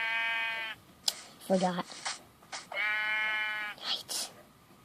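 A sheep bleats twice in Minecraft PE, each a sustained, buzzy in-game cry separated by brief clicks, bumps and a short spoken word, heard clearly up front.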